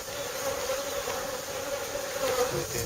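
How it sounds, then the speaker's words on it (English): A honeybee swarm hums nearby in a steady, continuous buzz, with no voices heard over it. "That's a male bee."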